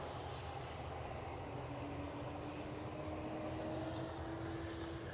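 A fixed-wing airliner departing Edinburgh Airport, a distant broad engine roar with a slowly rising tone, steady and continuous, heard faintly with no voices.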